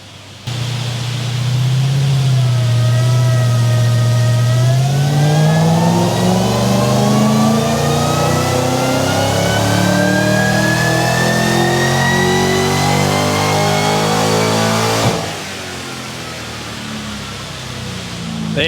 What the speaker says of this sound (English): There you go, beautiful supercharged 5 litre with a best of 474 kilowatts.